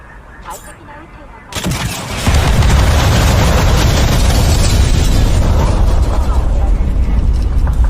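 After a quiet moment with faint sounds, a sudden burst of PS5 video game car explosions erupts into sustained loud, crackling, booming rumble.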